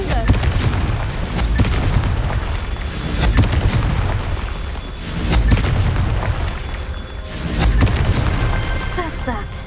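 Rolling fire-spell explosions in the Hogwarts Legacy video game, a series of deep booms swelling and fading in loud waves about every three seconds, with continuous rumbling debris in between.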